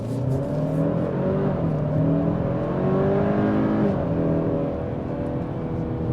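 A 2025 Kia K5 GT engine revs up and climbs through the gears, rising pitches sweeping upward with a steady roar and no one speaking.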